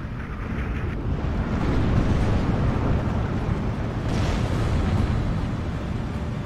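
Gunfire and explosions in the World War II strategy game Steel Division 2, a continuous heavy rumble of battle with low booming blasts and bursts, loud and dense throughout.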